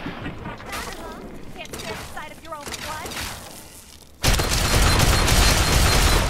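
A loud explosive blast from a shot fired in Fallout 3 at a giant rad scorpion, arriving abruptly after quieter game sounds and talk and then holding as a dense, roaring burst to the end.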